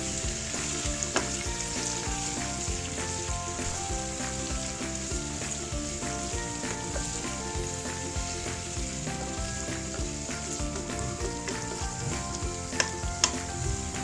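Onions sauté in a karahi, a steady close sizzle that runs unbroken for the whole stretch, with faint occasional stirring scrapes and no one talking.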